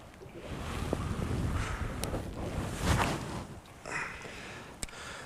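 Wind gusting across a boat out on open water during a fishing trip, a steady broadband rush with swells and buffeting against the microphone and a few faint knocks, no talking.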